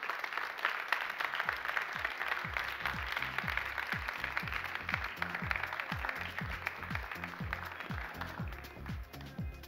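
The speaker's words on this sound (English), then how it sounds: "A big round of applause to our panelists." Audience applause welcomes panelists onto a conference stage, moderate clapping running under music with a steady thumping beat for nearly ten seconds.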